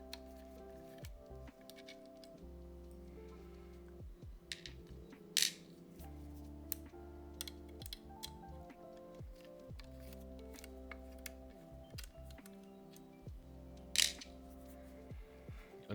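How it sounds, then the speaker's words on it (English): Small screws being removed from the XLR jack on the bottom of a Shure MV7 microphone during disassembly: scattered light clicks, ticks and metallic taps of a screwdriver working, with a few sharper clinks, close and quiet, no talking. "There are 2 screws holding down XLR jack. Let's remove them first."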